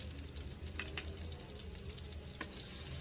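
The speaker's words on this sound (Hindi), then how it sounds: "बस इसको हल्का सा मैं 1 मिनट के लिए फ्राई करूंगी" Coarse garlic and ginger paste frying in a pan, a quiet steady sizzle with a few crisp spatters and scraping stirs.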